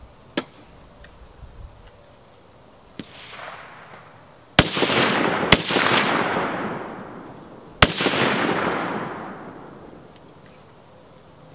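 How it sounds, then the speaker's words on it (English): Rifle gunshots at an outdoor shooting range in Kansas, a few sharp reports spaced seconds apart, the loudest three followed by long rolling echoes, with quieter distant shots between. "Just take the slack out of it and shoot."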